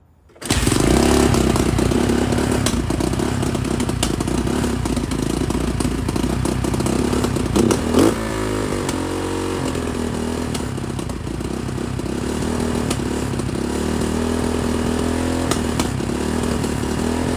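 Honda XR250L motorcycle engine, suspected of an air leak, catches and runs on, a loud close single-cylinder clatter with a brief blip, then steady uneven idling.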